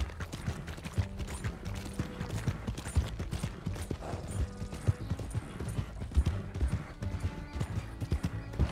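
Horse hooves clip-clop steadily in Red Dead Redemption 2, a rhythmic trotting beat under background game music and ambience with a faint whinny.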